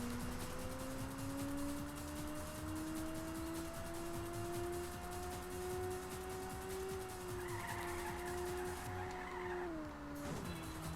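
Arcade race car in the Ridge Racer video game drifting, a steady high engine whine over continuous tyre skid noise, with a brief squeal near the end as the car straightens; no talking.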